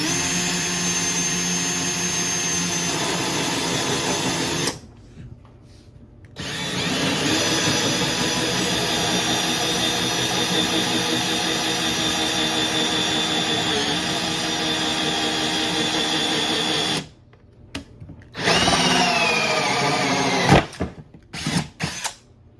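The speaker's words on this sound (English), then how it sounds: "And you just start drilling." A power drill fitted with a hole saw whines loudly and steadily as it cuts a hole in a work table, pausing twice briefly before restarting, then ending with a few short bursts and clatter.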